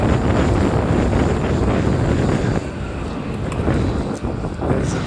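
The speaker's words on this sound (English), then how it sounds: "Wind blowing." Strong wind buffets the microphone on a San Francisco street, a loud constant roaring rush that eases slightly midway, with faint traffic beneath.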